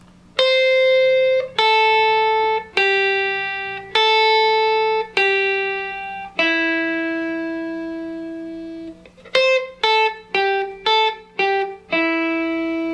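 A clean electric guitar plays a slow pentatonic sequence of single sustained notes, each ringing out, then a quicker run of notes near the end.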